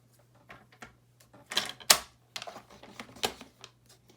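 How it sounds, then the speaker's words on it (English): Paper is scored across a scoring board while a slimline pop-up card is being made, producing a string of close, dry scraping and tapping strokes in an irregular rhythm, with sharper peaks in the middle. "I'll then score all the way across the paper."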